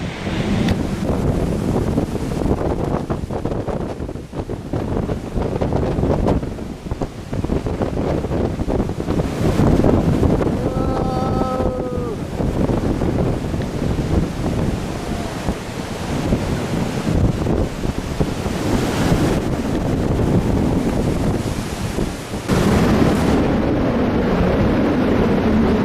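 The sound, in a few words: wind gusts during a storm on Mt Buningyong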